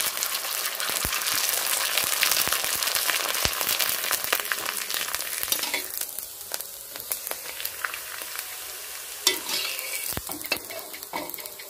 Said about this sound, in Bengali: একইভাবে আমি পাঁপড়গুলো ভেজে নেব।